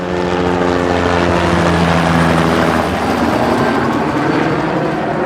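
Helicopter passing overhead outdoors, a loud steady rotor drone with low thumping harmonics that holds throughout without speech.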